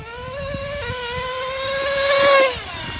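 A Traxxas Jato 3.3 nitro RC car engine screams at high speed, its whine climbing in pitch, peaking loud as the car passes close, then dropping away.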